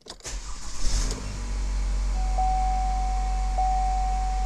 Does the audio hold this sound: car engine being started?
yes